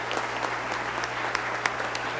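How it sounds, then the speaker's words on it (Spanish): A church congregation at a Sunday service breaks into sustained applause, a dense, even patter of many hands heard from a moderate distance over a low steady hum. "Un aplauso al Señor"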